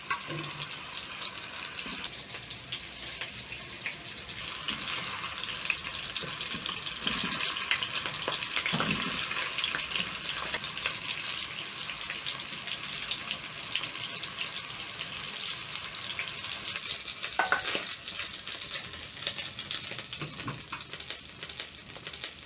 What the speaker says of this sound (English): I'm going to be searing my meatballs until they have that nice golden brown color.